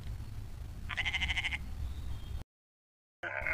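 A goat bleats once in a short wavering burst, clear and fairly close, then a near-silent gap before another brief bleat starts at the end.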